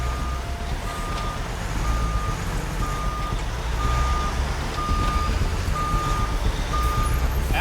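A heavy recovery truck backing into position on an icy road, its reversing alarm sounding eight evenly spaced beeps over a loud idling diesel rumble.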